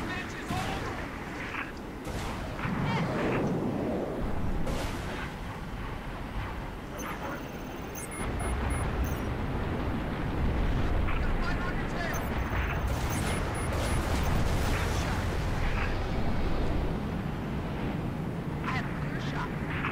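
Gunshots and explosions in the video game Halo: Reach, a dense, continuous roar of blasts and weapon fire with sharp high chimes, mixed under a speaking voice throughout.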